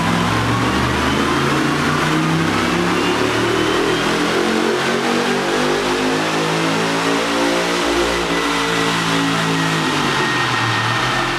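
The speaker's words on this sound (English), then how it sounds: "push the 505 horsepower 7-liter LS7 engine to its limits" A 505-horsepower 7-liter LS7 V8 supercar engine revs hard and loud, its harmonic roar rising and falling steadily with no voices.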